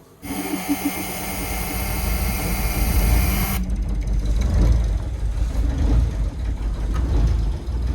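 Catalina 36 sailboat engine warming up at a mooring, a steady low rumbling drone with a high whine in the first half that drops away, continuous and close with no talking.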